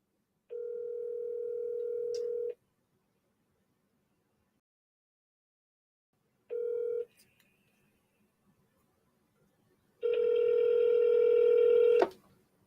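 An outgoing phone call rings unanswered, with loud steady tones heard up close: a long tone, a short one after a pause, then a longer, harsher tone ending abruptly. No voices are heard over the tones.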